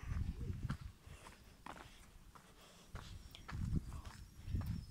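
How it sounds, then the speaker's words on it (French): Cows arriving on a farm make soft, irregular hoof thuds on the ground, a low shuffling walking sound that stays faint and somewhat distant throughout. "Donc vous voyez, ça y est, les vaches elles commencent à arriver."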